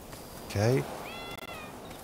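A calico cat in the video game Rise of the Ronin lets out a single short, fairly close meow partway through, followed by a faint thin whistling tone over a quiet game backdrop.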